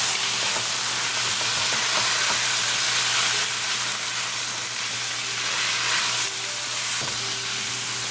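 Garlic powder and ground ginger are stirred in a pan over a medium gas flame. A dense, steady sizzle and hiss runs throughout, with a faint hum and a few light knocks of stirring.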